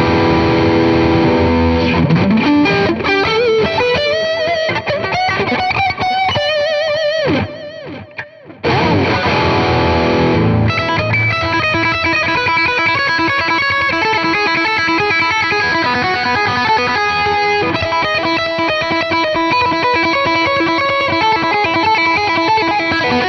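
A Harley Benton JA-25TH Jazzmaster electric guitar plays through heavy distortion, with sustained chords and bends and a brief drop near the middle, loud and alone with no talking.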